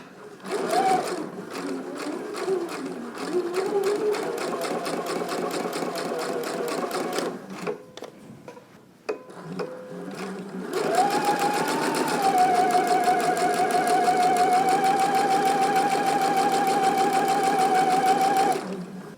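Sewing machine running long basting rows for gathers, a close, fast steady stitching buzz in two extended bursts separated by a brief pause, with no talking.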